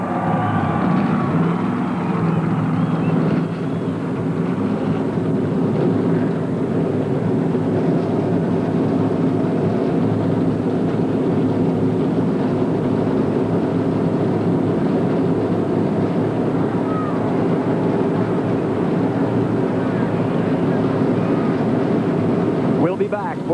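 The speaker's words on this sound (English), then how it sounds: "Gentlemen, start your engines." NASCAR Winston Cup stock cars at Daytona International Speedway fire up for the 1996 Busch Clash, their engines merging into a steady, heavy rumbling roar, with some wind buffeting the microphone.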